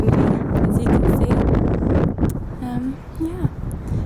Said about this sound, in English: Very, very windy, as you can see.